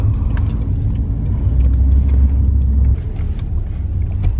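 A car drives along at a steady pace, its low engine rumble and road noise continuous and close, swelling slightly midway before easing, with a few faint clicks and knocks on top.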